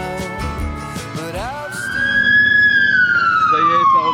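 An ambulance siren wails steadily and loudly from behind in traffic, its tone sweeping up and slowly down, with music playing underneath.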